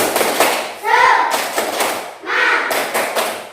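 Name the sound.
class of schoolchildren doing a spirit clap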